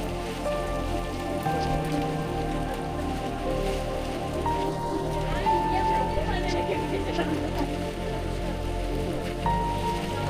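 Continuous monsoon rain pours down in a dense, even wash at Lohgad Fort near Lonavala, with faint voices murmuring beneath it.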